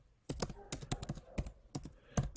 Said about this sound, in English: Okay, so now let's start typing.